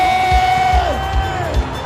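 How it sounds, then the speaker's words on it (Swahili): A crowd at a new shop opening in Eldoret cheers loudly, with sustained high warbling ululation over a dense, near roar of voices and thumping beats underneath. "Wapi shangwe na vigelegele?"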